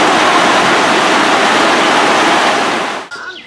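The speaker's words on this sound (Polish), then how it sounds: "Teraz to już mamy oberwanie chmury." Torrential cloudburst rain roars loud and unbroken for about three seconds, then cuts off abruptly to a quieter background near a river in Poland.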